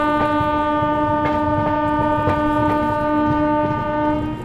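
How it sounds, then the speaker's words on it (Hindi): The 22539 Mau–Anand Vihar SF Express sounds a loud, sustained horn close by. The rich harmonic blare holds steady for several seconds over a rumbling train, with no talking. "क्या हॉन्किंग है भाई।"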